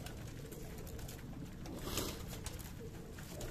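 Pigeons of Teddy and Sherkoti breeds coo faintly and steadily as grain is scattered on the ground, with no talking.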